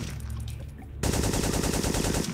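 Gunfire in the video game Syphon Filter 3, quieter scattered shots at first, then an abrupt switch to a dense, loud, continuous automatic burst that holds to the end.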